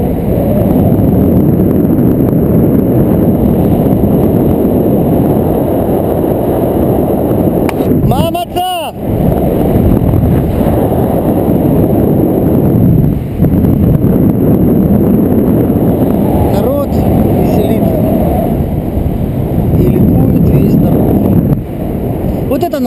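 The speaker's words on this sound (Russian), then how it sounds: "ветер западный, как видите, держит неплохо" Steady west wind rushes and buffets across the whole recording over a paragliding spot above houses in Bat Yam, Israel, a broad low roar with gusty fluctuations, loud and continuous, with a brief clatter midway.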